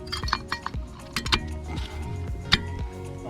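Brake pads being fitted into a brake caliper during a backyard pad and rotor change, light metallic clinks and ticks in quick irregular bursts, close by with no talk.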